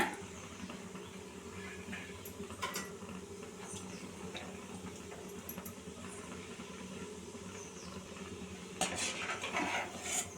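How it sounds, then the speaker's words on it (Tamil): Cashews roasting in a pan while being stirred, heard as soft scraping and light metallic clinks of the spoon over a low steady sizzle, with a louder burst of stirring near the end. "அடுத்து முந்திரியை வறுத்து எடுத்துருவோங்க"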